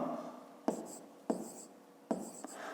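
Numbers are written by hand on paper, with three quick taps and short scratchy pen strokes heard up close and quiet, each followed by a brief scribble.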